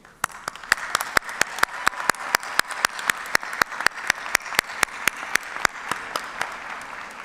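Sharp, evenly spaced claps ring out one after another at a steady rhythm at a university commencement ceremony, fairly close and distinct over a quiet background.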